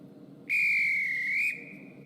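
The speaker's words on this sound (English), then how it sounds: "First, the guard signals with a whistle." A train guard's departure whistle in Stepford County Railway sounds once, a single loud, steady tone held for about a second before cutting off, with a faint lingering tone and quiet background after.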